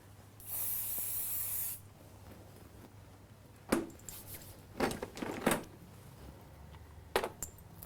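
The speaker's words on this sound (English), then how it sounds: "So one more spray" A single long hiss from an aerosol can sprays a makeup blister effect, followed by quieter scraping and tapping sounds from handling the makeup and tools, close by.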